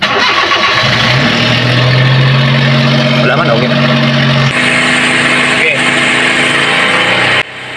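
A Suzuki DA64 engine idles steadily and loudly up close, a rough mechanical drone that runs without a break for about seven seconds before cutting off. Someone talks briefly over it.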